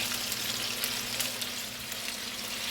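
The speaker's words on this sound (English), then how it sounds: "Anything that you're frying, you don't want to overcrowd." Close, continuous sizzle of fish frying in hot oil, a dense steady hiss with faint crackles and a low hum underneath, no voices.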